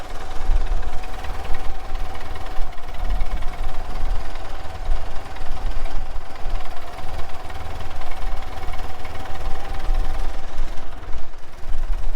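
An old Ford tractor engine idling steadily, a loud rapid mechanical clatter with an even knocking rhythm, close up and continuous with no talk.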